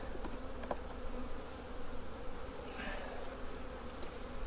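Honey bees buzzing steadily and densely during a hive inspection while brood chambers are being added, close and continuous with no speech.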